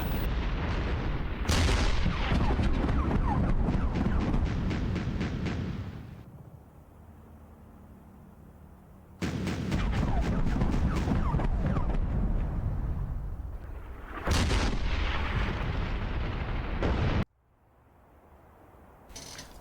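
Artillery fire in the tank war game Armored Brigade 2: loud, rumbling bursts of rapid booms and crackling blasts come in several long waves, separated by quieter stretches of low rumble.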